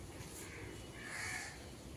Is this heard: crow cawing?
yes